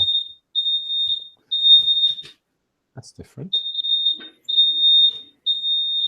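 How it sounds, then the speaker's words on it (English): Smoke alarm going off indoors, repeated loud high-pitched electronic beeps in steady bursts with a short gap, while someone speaks briefly during the pause. "That's my fire alarm."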